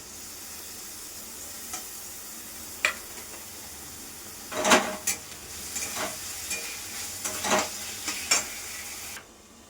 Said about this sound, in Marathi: कांदा छान परतलाय, आता त्यात टोमॅटो टाकते.